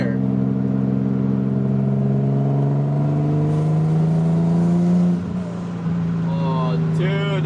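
A turbocharged Infiniti G35 engine drones at steady high revs close by, its harmonics climbing slightly before a sharp dip and stutter as boost cut hits, then holds again, with brief people talking toward the end.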